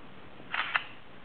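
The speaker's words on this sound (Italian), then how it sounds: "Automaticamente avviene il secondo scatto." A smartphone camera fires its shutter sound while automatically capturing panorama frames: two quick, crisp clicks in close succession, alone over faint background hiss.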